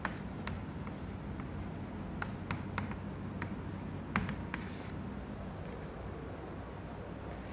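A marker or chalk scratches and taps against a board as fluid mechanics streamlines are drawn during a lecture, quiet strokes and clicks spaced irregularly over a steady room hiss with no talk.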